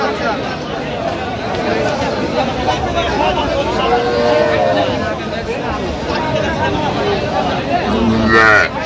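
Cows and calves low now and then over a busy crowd of voices at the Aftabganj cattle market in Bangladesh, with a louder moo near the end, amid steady market hubbub.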